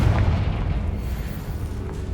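Confringo fire spell exploding in the Hogwarts Legacy video game, a loud, deep boom with a rumbling low tail that fades over about two seconds.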